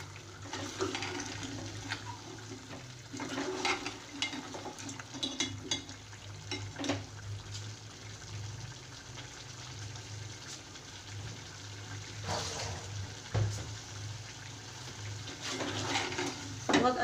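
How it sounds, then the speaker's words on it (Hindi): Cauliflower is stirred into a beef curry (gobi gosht) in a pot. Wet scraping and sloshing stir strokes come in irregular bursts over a low sizzle and a steady background hum. "मैंने गोभी डाल दी और अब मैं इसको मिक्स कर दूँगी।"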